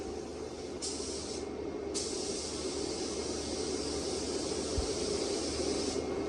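A spray gun lays down a metallic clear coat on an old 1970s dune buggy sandrail, a steady close hiss running without a break, with slight shifts in the high airy spray.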